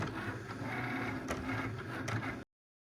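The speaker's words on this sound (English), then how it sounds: "I'm going to go ahead and hit the Cricut button, and my project will start cutting." Cricut cutting machine cutting a reverse canvas project, giving a steady whirring, buzzing motor hum with small carriage shifts, close and continuous for a couple of seconds before cutting off abruptly into silence.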